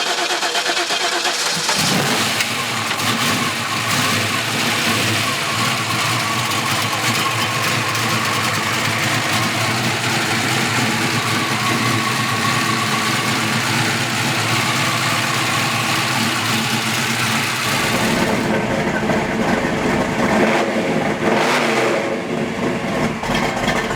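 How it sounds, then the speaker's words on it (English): A 1972 Chevrolet Chevelle with a small-block 400 V8 cranks and fires, then idles loud and steady with repeated revs rising and falling close by, settling near the end, with no talking. "So small block 400 is making some power."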